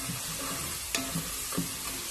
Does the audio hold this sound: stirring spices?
yes